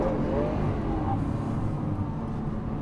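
A 740bhp Lamborghini Aventador SV on a flying lap around a race track, its engine a loud, steady, close drone holding constant for a few seconds with no voices.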